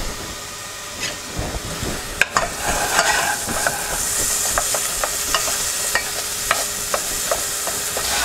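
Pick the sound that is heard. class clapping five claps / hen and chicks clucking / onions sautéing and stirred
onions sautéing and stirred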